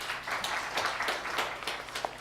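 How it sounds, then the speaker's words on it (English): Audience applause at a disaster management report launch, a moderate steady patter of hand clapping from a crowd. "A better clap for her."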